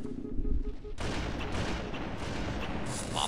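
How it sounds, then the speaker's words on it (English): Sniper rifle fire in a Halo MCC team snipers match starts as a sudden loud blast, then a dense, sustained wash of game gunfire and explosions carries on to the end. "Stop shooting at me!"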